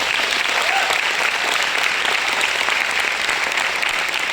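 A crowd at a company recognition event claps steadily and densely, a loud even wall of applause filling the entire short span with no pauses.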